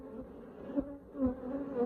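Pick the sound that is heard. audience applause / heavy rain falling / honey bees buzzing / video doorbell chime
honey bees buzzing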